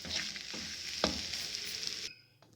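Potato and pea paratha filling mixed in a bowl or pan, giving a continuous close rustling scrape with one sharp knock near the middle before the stirring stops abruptly, no one speaking.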